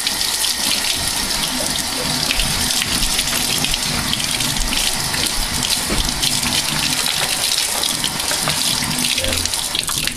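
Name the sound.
tap water running while rinsing bean sprouts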